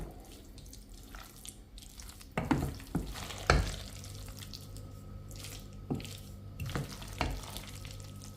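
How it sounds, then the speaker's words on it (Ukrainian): A spoon working mayonnaise into an Olivier salad with white mushrooms in a bowl, giving irregular wet squelching and scraping strokes with a few louder knocks against the bowl, close and without talk. "Кладу майонез і перемішую із майонезом."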